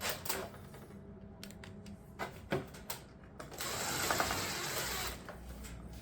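Screws 2.5 inches long driven through a shingle ridge cap over a ridge vent into roof decking, heard as short bursts of mechanical whirring and ratcheting with a longer steady run near the end, close and fairly quiet.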